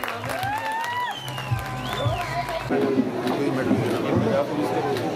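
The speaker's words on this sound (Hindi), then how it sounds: "हमारे यहाँ पे बाहर से भी जोरदार ताली से" Applause from the audience at a paragliding festival closing ceremony in the Himalayas, a crowd clapping and chattering, rising and thickening after someone speaks over a microphone.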